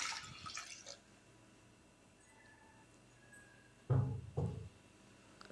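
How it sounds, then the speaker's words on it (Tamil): Water is poured into a pressure cooker holding drumstick leaf soup with tomatoes, in two short splashing bursts, one at the start and one near the end, with a quiet pause between. "இப்போ சூப்புக்கு தேவையான அளவு தண்ணி சேர்த்துக்கிறலாம்"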